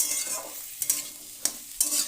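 Bitter gourd and potato are stir-fried in a pan, giving a soft steady sizzle broken by three or four sharp scraping strokes of a spatula, close and fairly quiet, with no voices.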